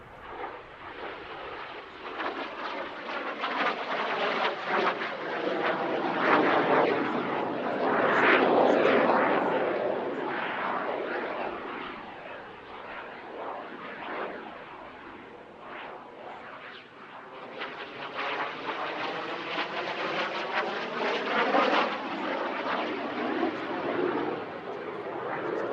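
A Jet Provost jet trainer flies past at the Midlands Air Festival airshow, its engine roar swelling loud, easing, then building again in a steady, continuous rush with no voices.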